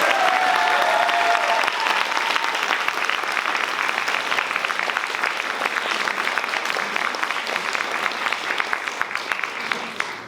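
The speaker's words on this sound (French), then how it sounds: "je vous demande d'accueillir sous un tonnerre d'applaudissements nos réalisateurs et scénaristes François Descraques" Audience at Comic Con Paris 2019 giving a thunderous welcome to film directors, dense continuous applause that stays loud and gradually thins toward the end, with faint cheers mixed in.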